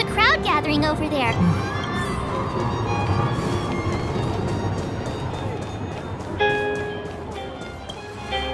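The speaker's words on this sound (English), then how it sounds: "Look, there's a crowd gathering over there." A crowd gathering and murmuring in the Honkai Star Rail video game, a busy layered hubbub of many voices with scattered shouts and footsteps, plus clear tonal chimes and game effects over it.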